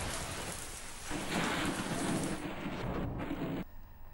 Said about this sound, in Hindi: गुलशन इकबाल में गरज चमक के साथ बारिश हो रही है।